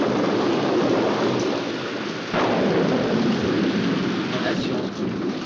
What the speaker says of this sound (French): Non, mais je te jure, il pleut.